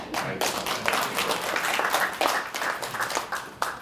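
A seated audience at a panel event gives a sustained round of applause in honor of Jimmy Carter, dense overlapping claps in a lively, fairly close wash that swells and fades slightly.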